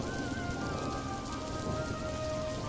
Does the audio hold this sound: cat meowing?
no